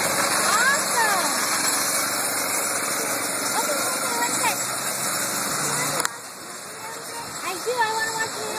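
A small go-kart engine runs steadily at a Branson track, a continuous mechanical drone with shifting pitch as the kart moves, while people talk and call out in the background.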